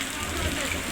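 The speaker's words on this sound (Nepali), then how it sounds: "जाजरकोटमा ठुलो बर्सात सहित असिना परेको छ" Heavy rain with hailstones falling in Jajarkot, a dense, steady patter and rush on surfaces, loud and close throughout a brief moment.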